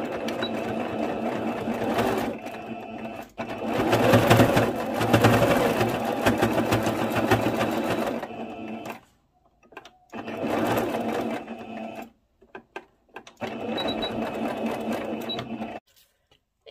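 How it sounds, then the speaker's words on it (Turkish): A sewing machine runs in long steady bursts while stitching a hem on an elastic skirt, with short pauses and quiet gaps between the runs of close, continuous whirring. "İpimi değiştirip buradan aşağıda bir dikiş yapacağım."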